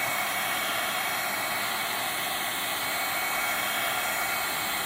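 A heat gun on its high setting blows a steady, loud broadband hiss of hot air over wood coated with wood burning paste, unbroken for the whole stretch with no talking.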